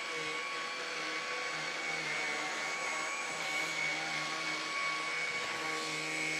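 A Loop double-brush vacuum cleaner with brush rollers set to high hums steadily as it is pushed across carpet, a continuous, even motor whine and brush drone with no speech.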